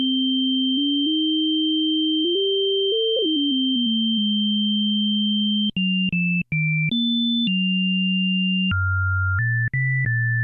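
Pure sine tones from a Reaktor 6 subharmonic synthesizer modeled on the Moog Subharmonicon: a steady high tone over a stepping low tone, then both jumping through short held pitches, clean and alone with no voices.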